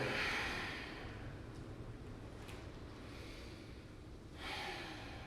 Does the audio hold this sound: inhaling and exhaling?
yes